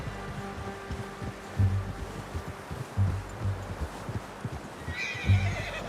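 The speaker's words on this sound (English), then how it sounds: "How's that new horse?" A horse in the video game Red Dead Redemption 2 whinnies while hooves clop in slow, repeated thuds, with a soft rustle and ambient background.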